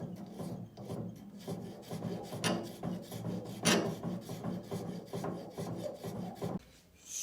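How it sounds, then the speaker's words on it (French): A round bastard file is worked over steel while machining its angles, making close, rhythmic rasping strokes with brief pauses between passes. "toujours avec ma lime ronde bâtarde, je vais terminer l'usinage de mon angle de crête et réaliser le raccord avec"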